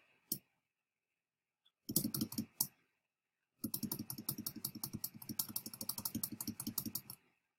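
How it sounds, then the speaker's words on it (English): Quiet, close clicking from a computer keyboard: a single tap, a short burst of keystrokes, then a quick, steady run of typing lasting several seconds. "You can even hear my keyboard."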